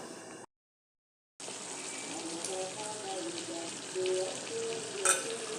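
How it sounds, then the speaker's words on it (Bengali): Chicken pieces with turmeric and chili powder sizzle loudly in a pan while being stirred, a close, continuous frying hiss with a brief full silence near the start and a few stirring scrapes later. "এখন ভালো করে নাড়িয়ে চাড়িয়ে দিব।"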